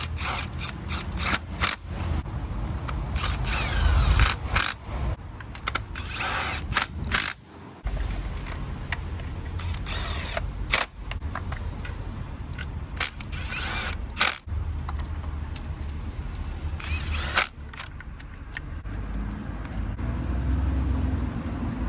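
Spark plugs are threaded back into a car engine, heard as a run of close ratchet clicks and metallic mechanical turning, broken up by short bursts of louder clatter.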